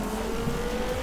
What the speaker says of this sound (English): Oh no, oh no, oh no! Wheel spin!